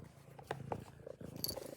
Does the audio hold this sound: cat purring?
yes